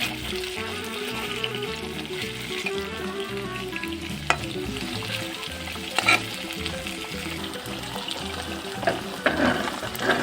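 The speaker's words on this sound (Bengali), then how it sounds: "এখন আমি মাছগুলো সমান করে দেব কড়াইতে বিছিয়ে একটু সুন্দর করে যাতে মাছগুলো সুন্দরভাবে ফ্রাই হয়ে যায়" Bata fish frying in oil in a wok, a steady close sizzle that runs throughout under a low tonal background, with a few brief louder crackles.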